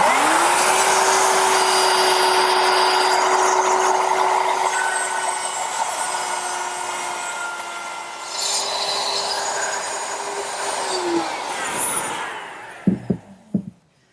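Router cutting a half-inch dado in 3/4-inch wood stock along a guide block, a loud sustained high whine with grinding cutting noise for about twelve seconds, then winding down, followed by a few sharp knocks.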